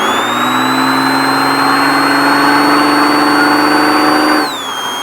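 A car engine pulls hard up a hill, a loud, close, steadily rising whine and hum that holds for several seconds, then drops sharply as the throttle comes off.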